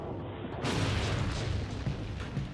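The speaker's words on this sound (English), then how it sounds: "Testing shaped charge warheads on the wrecks of battle-damaged tanks." A shaped charge warhead detonates against the wreck of a battle-damaged tank in a weapons test: a sudden loud broadband blast that rumbles on at full strength for about two seconds.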